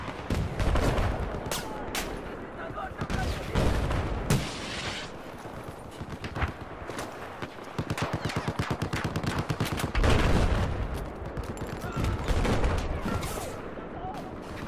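Dense video-game gunfire from a QBB-95-1 light machine gun loadout: rapid automatic bursts and heavy single shots crackle nearly nonstop, loud and close, with a voice speaking briefly among the shots.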